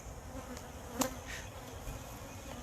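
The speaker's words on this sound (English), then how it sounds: "I see a lot of bees, so they haven't left it." Honey bees buzzing around a hive, a steady soft drone with a few bees passing close, faint and continuous throughout.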